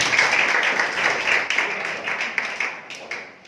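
A church congregation applauds with dense, lively clapping that gradually thins out and fades over a few seconds, with a little talk mixed in.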